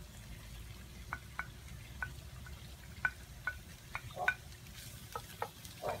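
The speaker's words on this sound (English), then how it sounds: "Put that in, hear that little sizzle." Faint crackling sizzle of ground beef in a pot, with scattered soft pops and taps over a low steady hiss.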